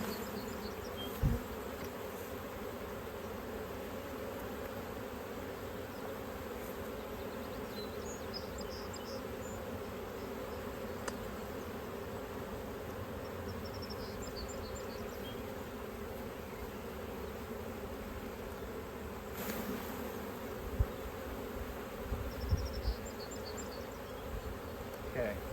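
Honey bees hum in a steady, low, continuous drone around hive frames being moved, with occasional faint knocks and handling sounds nearby.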